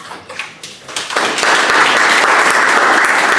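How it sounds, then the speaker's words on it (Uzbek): Applause from an audience at an AI hackathon follows a startup pitch. It starts as scattered claps, then swells after about a second into dense, sustained clapping in a hall, with faint voices beneath. "Olqishlar"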